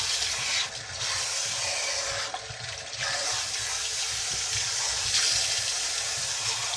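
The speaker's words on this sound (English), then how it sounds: "I'm rinsing the shampoo out completely." Running water pours steadily and loudly while shampoo is rinsed out of hair, a close continuous gush with brief dips as hands move through the stream.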